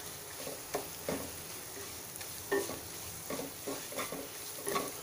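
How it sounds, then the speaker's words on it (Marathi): Dry-roasted, coarsely ground masala sizzles in hot oil for a rice dish, with a steady soft frying hiss broken by intermittent scraping stirs, close and fairly quiet. "हाही आपण तेलात घालून घेऊया।"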